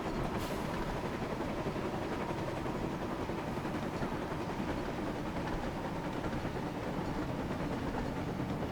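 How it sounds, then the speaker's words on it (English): Train braking in Train Sim Classic: a steady, faint low rumble of rolling rail wagons with a constant hum, unbroken and without talk throughout. "More braking"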